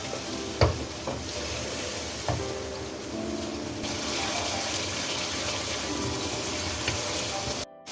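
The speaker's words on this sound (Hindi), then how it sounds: "अब इसको मसाले को भून लें।" Steady sizzling and frying hiss of masala frying in a pan for chicken tikka karahi, with a few soft clinks of a utensil stirring at the start.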